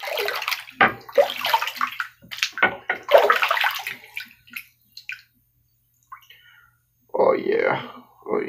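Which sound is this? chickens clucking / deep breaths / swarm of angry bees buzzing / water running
water running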